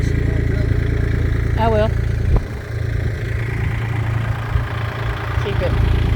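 A tractor engine idles steadily and fairly close throughout, with a brief clatter partway through, while people talk over it.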